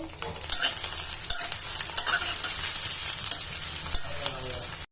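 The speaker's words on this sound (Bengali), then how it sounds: "এখন তেলে শুকনো মরিচ দিয়ে দিব পোড়নের জন্য পেঁয়াজ কুচি রসুন কুচি দিয়ে দিব" Dried chili, chopped onion and garlic frying in oil for a potol bhorta, with a loud, close sizzle and frequent spatula scrapes and taps, and no speech.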